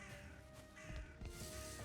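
Crow-like bird caws within the ambient soundscape of the video game Valheim, a few short calls over a steady bed of wind and nature noise.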